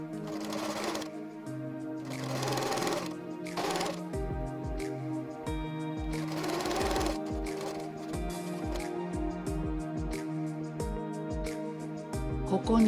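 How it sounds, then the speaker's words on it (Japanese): A sewing machine stitches the triple-folded hem along the bottom of an apron in several loud, close bursts of rapid mechanical whirring, separated by short pauses and clicks. "底をミシンで縫っていきます。"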